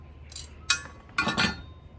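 Metal clinks from a bolt, spring washer and hard washer coming off the swing blade of a Honda HRU216 self-propelled mower, four separate close, bright taps spread over two seconds with quiet between.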